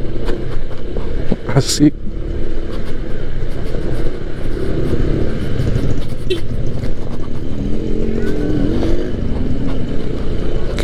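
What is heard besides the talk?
Honda ADV 160 scooter riding on road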